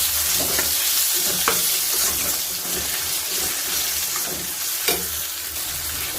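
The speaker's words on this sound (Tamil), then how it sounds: "பாருங்கள், நல்லா எண்ணெயிலேயே வதங்கிட்டோம்." Chopped tomato sautés in hot oil for rasam, a loud, constant close sizzle broken by occasional stirring scrapes and soft taps.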